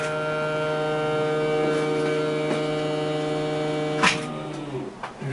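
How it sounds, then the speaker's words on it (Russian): The variable-frequency drive's cooling fan on a G6 belt grinder for 610x50 mm belts runs with a steady tonal whine and hum, close and loud, broken by a sharp click near the end before the tone settles. "Это включился вентилятор частотника."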